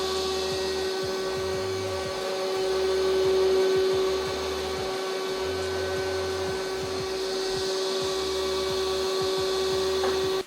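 A close, steady motor whir with a high electric whine and a rhythmic low thumping pulse from an iRobot Roomba robot vacuum on its normal mode, running continuously without any talking.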